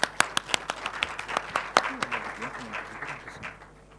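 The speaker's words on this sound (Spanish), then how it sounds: "Por favor, un aplauso para él." Audience at a book launch breaks into applause: a few sharp separate claps at first, then a fuller round of clapping that gradually thins and fades, with faint voices murmuring underneath.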